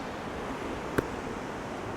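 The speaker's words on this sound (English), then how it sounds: "It's windy, it's stormy, it's raining" Stormy outdoor weather with wind and rain, a steady broadband roar of gusting air and wind buffeting the microphone, unbroken and fairly faint, with one brief knock near the middle and no talking.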